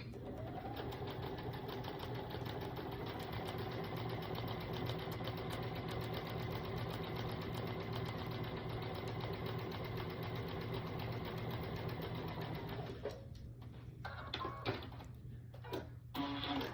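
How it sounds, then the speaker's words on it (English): Sewing machine running a scant quarter-inch seam on a heart piece for a February door hanger, a steady close whir that lasts most of the time before stopping, followed by a few handling clicks and rustles. "sew down this side at a scant 1/4 inch"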